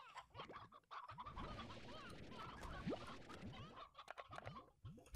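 A hen in the video game Slime Rancher clucks repeatedly in quick, chattering bursts with fowl squawks, fairly close and continuous over a few seconds.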